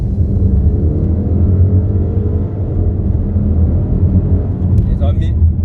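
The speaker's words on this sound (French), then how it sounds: "on arrive à entendre les pots de chappement là" An Audi RS7 V8 accelerates with a deep, steady exhaust rumble that stays loud and continuous throughout, with a brief brighter burst near the end.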